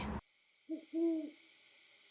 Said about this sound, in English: Great horned owls do this all the time.